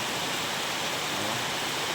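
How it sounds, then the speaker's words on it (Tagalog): Heavy rain pours at night as a steady, uniform roar of falling water, close and unbroken for the whole short stretch. "Buong gabi, umuulan."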